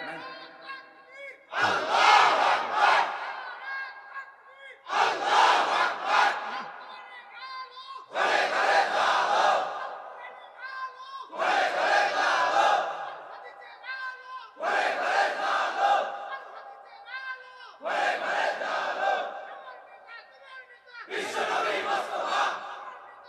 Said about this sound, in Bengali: স্লোগান মারেন তো একটু